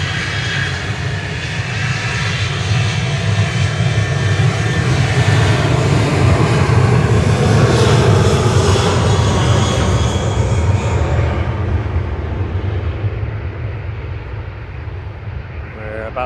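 A Ryanair jet departing Manchester for Cork produces a loud, rumbling engine roar that builds to a peak midway, then fades as it moves off, with a voice talking over it.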